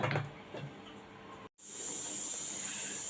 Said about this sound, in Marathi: कुकरच्या सिट्या झालेल्या आहेत